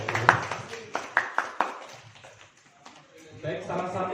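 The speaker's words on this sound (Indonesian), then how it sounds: "Tepuk tangan Bapak Ibu" Hand clapping from a small audience at a teacher training session: a few sharp, uneven claps up close that fade out, followed by a voice speaking.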